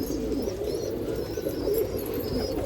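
Allahabadi pigeons at a pigeon festival in Nashik coo in a steady low rolling murmur, several birds together and close, with faint chirps over the top.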